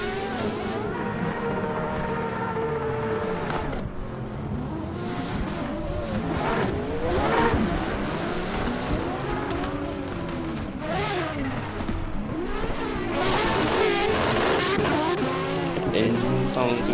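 Loud drift-event car engine revving and roaring almost continuously, with rising and falling pitch sweeps, possible tire squeal, and voices talking over it throughout.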